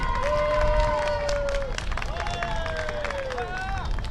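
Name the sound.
crowd applauding winner Anthony Riant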